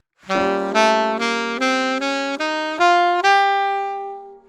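Clean guitar plays a Locrian sharp 2 scale over a minor ii chord, about eight evenly spaced notes climbing one after another, with the last note left ringing.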